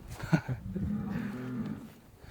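Simmental cattle in a livestock pen, with one long, low moo drawn out across most of the clip, fairly close, over faint background noise.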